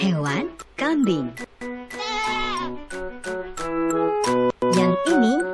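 A goat in a toddler animal-naming game bleats in drawn-out, quavering cries against looping game music, with someone talking in Indonesian around the calls.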